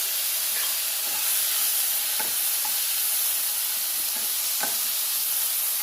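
Radish and tamarind frying in a pan for chutney: a steady, bright sizzle fills the whole stretch, with faint stirring taps and no talk.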